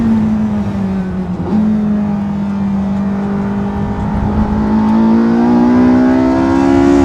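Porsche 918 Spyder accelerating hard on a track in hot laps mode, its engine a loud, close, continuous drone rising steadily in pitch through the gear, with no voices over it.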